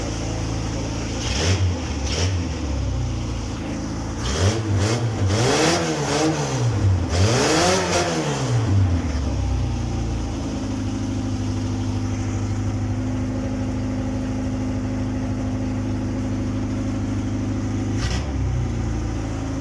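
A Niva UTV engine running after gasket replacement: a loud idle with several revs that rise and fall early on, then a steady drone that settles into an even idle.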